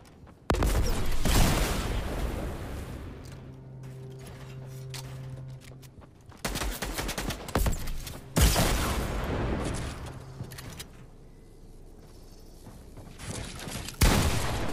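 Gunfire in the video game Fortnite: several loud broadband bursts of shots separated by quieter gaps, with a low tonal hum and mechanical clatter running underneath.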